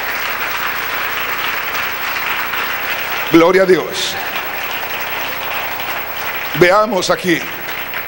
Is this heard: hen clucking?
no